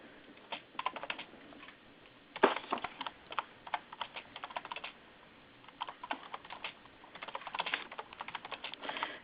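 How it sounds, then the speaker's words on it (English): Fast, uneven typing on a computer keyboard close by, with bursts of clicks and short pauses, heard alone in the background of an online session. "that's me feverishly typing in the background"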